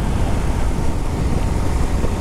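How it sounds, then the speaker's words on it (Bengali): Strong wind rushing past a Suzuki Gixxer SF motorcycle on an empty expressway at night, a dense, steady low roar that stays loud and unbroken throughout. "অনেক বাতাস আসছে"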